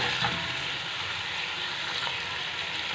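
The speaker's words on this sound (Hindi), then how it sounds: "मटन को हमने अच्छे से यहाँ भून लेना है ताकि इसकी स्मेल भी ख़त्म हो जाए" Boiled mutton fried with cumin and ginger-garlic paste for yakhni pulao, a steady close sizzle and crackle of meat in hot oil with faint stirring, continuous and even throughout, no voices.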